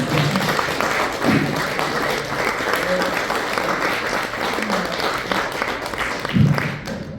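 Applause from a forum audience in Seoul honoring a chairman, steady clapping throughout about seven seconds, with a few louder bursts near the start and end.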